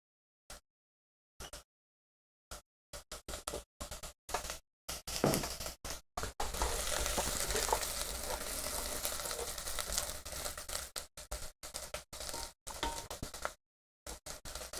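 Diced onions fry in a pan, giving a steady broadband sizzle from about six seconds on, broken earlier by silent gaps and brief crackles, with a deep fryer nearby.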